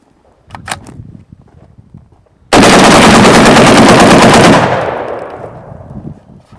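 A Kel-Tec SU-16 rifle fires a fast rapid string of shots for about two seconds, very loud and close, after a few faint handling clicks and before a fading echo.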